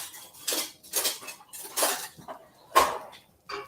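Metal kitchen utensils clatter and clink as someone rummages through them for tongs, a series of close, sharp jangles with short pauses between.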